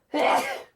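A single short, sharp sneeze bursts out close and fairly loud, lasting well under a second before cutting off into silence.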